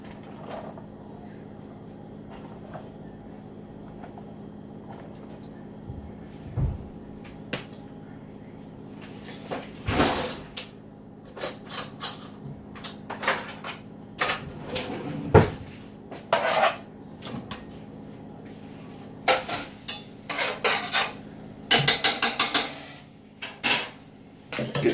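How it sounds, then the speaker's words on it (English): Onions go into a cooking pot for chitterlings, producing a run of irregular clanks and knocks from pot, lid and utensils, loud and close, in short bursts over a steady low background hum. "I'm gonna put you a little onions and get you a little of those in the pot."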